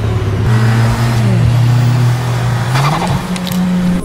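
Cars drifting at a Racing Track event, including a Civic Si, with a loud droning engine that shifts pitch and tires squealing and skidding close by, continuous throughout.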